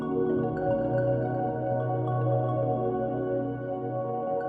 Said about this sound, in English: that's an instrument called a pad.